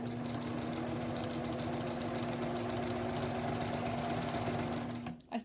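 A sewing machine stitches a quilt row in a steady, continuous whir with a fine rapid needle rhythm, running close and loud for about five seconds before it stops abruptly.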